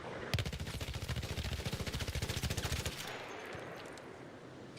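Rapid automatic gunfire from a weapon fitted with recoil attachments in the video game Arc Raiders, fired from the hip in one loud sustained burst of evenly spaced shots that stops abruptly and trails off into a short echo.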